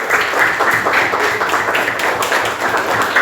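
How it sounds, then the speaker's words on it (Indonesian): A classroom group applauds together, a dense, steady patter of many hands clapping at close range for a few seconds. "Tepuk tangannya buat semuanya."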